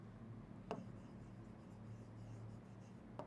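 Marker or chalk writing on a board during a maths class, faint scratchy strokes over a steady low room hum, with two sharp taps marking the start and end of the writing.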